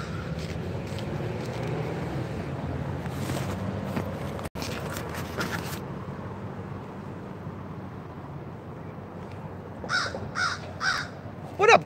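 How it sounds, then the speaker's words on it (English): A crow caws outdoors, a series of about four harsh calls near the end with fainter caws earlier, over low background noise and light footsteps, and no talking. "Oh, the crow's coming through, yo."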